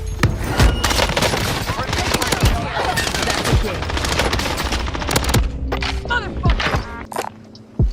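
Rapid sustained bursts of CW MP5 submachine gun fire in Warzone, loud and dense, with sharp impact booms scattered through. The shooting thins toward the end, and game voices can be heard underneath.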